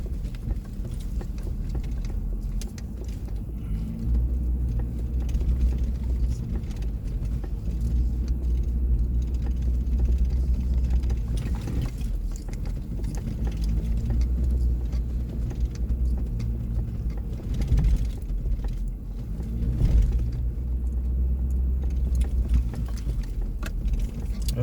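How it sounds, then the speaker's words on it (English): A truck in four-wheel drive travels a snowy road near a river, recorded from inside as a continuous low engine and tire rumble with occasional bumps and rattles throughout, no voices. "Put the truck in four-wheel drive here."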